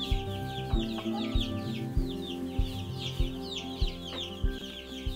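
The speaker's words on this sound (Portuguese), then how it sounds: "Do outro lado está o Wilbur com as galinhas polacas." Chickens, including Polish chickens, cluck and murmur in a steady stream, several birds close by, with faint rhythmic thumps and a low hum underneath.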